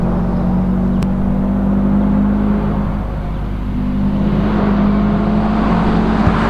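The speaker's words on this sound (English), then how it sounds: "And we're away with Jordan, car number 79 in his WRX STI." A Subaru WRX STI rally car pulls away at a lakeside hillclimb, its engine a steady droning hum that dips briefly, then builds again as it draws off.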